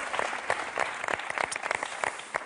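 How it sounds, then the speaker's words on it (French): Studio audience at a French television game show clapping steadily throughout, a dense, lively wash of applause with no voices over it. "vous avez applaudi un mec qui donne un verre en plastique"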